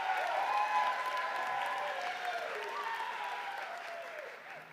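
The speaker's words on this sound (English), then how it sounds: "Please give him a rousing round of applause." A commencement crowd gives a rousing round of applause for a university concert band, dense clapping that starts strong and slowly tapers, with a few voices and cheers threaded through.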